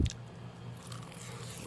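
Close, soft chewing of grilled samgyupsal pork belly wrapped in nori, a steady wet mastication with faint squishy bites, recorded intimately in ASMR style with no talking.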